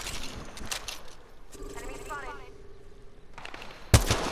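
Gunshots in Apex Legends: a few sharp cracks early, a quieter stretch with a tonal hum, then a loud close shot near the end.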